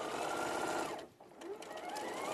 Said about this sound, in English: Now I'm stitching around